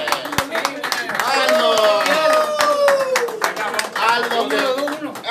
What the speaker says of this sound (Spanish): Un aplauso al filmador, Aldo Chajé.